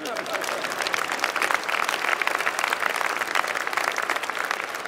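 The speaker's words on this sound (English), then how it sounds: "Go on, you can clap on that one." A university winter commencement crowd breaks into sustained applause, a broad wash of many clapping hands with some voices mixed in, loud and steady throughout.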